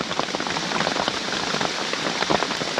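Heavy rain pounds steadily on a roof during a storm, a dense, continuous wash of close drumming and splatter with no pauses and no voices.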